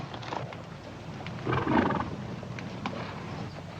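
Horses shift and snort at close range, with a faint whinny rising in the middle against a quiet outdoor background.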